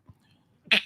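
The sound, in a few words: sneeze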